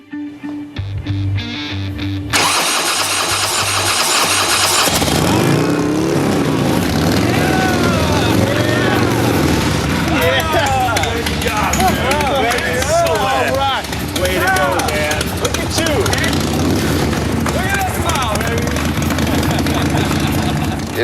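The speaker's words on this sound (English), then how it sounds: "if the engine doesn't turn over this time" A motorcycle engine cranks over, catches and settles into a steady running rumble and idle, loud and close, with voices talking over it.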